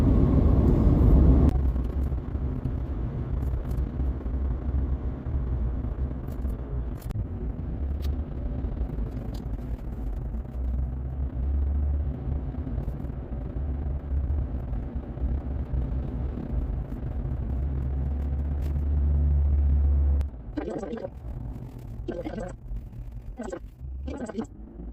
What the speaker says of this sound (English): we've been driving now for about 3 hours or so here, making progress